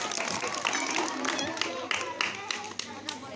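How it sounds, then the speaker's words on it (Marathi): An audience claps at a school-style event, dense applause filling the short stretch and continuing under a voice that speaks over it. "368 टाळ्या वाजवा सर साठी."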